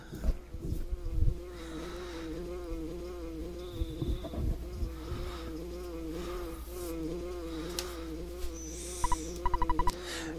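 Insect-like buzzing from a creature in the EquestriaBound video game, a low wavering drone that runs throughout with soft clicks and a quick burst of chirpy blips near the end, with no voices.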